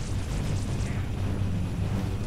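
A grenade blast in the shooter game Halo: Reach, a deep rolling explosion with a long rumbling tail that fills the scene, loud and continuous, with no talking over it.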